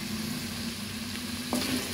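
Onions sizzle and fry in a pan as the base for an okra and potato curry, a steady close crackle with a brief stirring scrape near the end.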